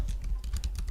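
Quick, irregular keystrokes tap on a computer keyboard while a command is entered, several close clicks packed into under a second with no voices.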